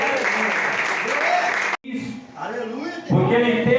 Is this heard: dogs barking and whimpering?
no